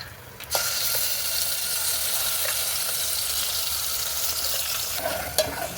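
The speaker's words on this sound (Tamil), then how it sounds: "இப்போ இது எண்ணெயிலேயே போட்டு வதக்கிக்கலாம்." A ground paste of garlic, tomato and green chili frying in hot oil: loud, steady close sizzling, with a few sharp clicks of a spoon stirring the pan, and no talking.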